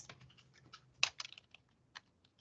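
A computer keyboard is typed on in light, sparse, irregular clicks, close and fairly quiet, with one sharper keystroke standing out.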